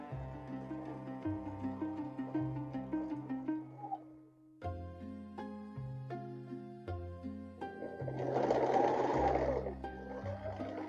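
A sewing machine stitches in bursts under steady background music, its motor whirring louder for a stretch near the end, with no voices.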